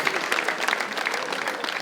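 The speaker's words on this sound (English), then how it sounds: "please round of applause for all my comedians," Audience applause for comedians at a live comedy show, a dense, steady burst of many hands clapping that carries through the whole short stretch.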